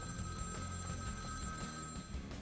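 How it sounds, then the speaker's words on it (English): A telephone rings inside the video game Vampire: The Masquerade - Bloodlines, a steady electronic trill held over a dense, droning background of game ambience and music, with no talking. "Phone's ringing."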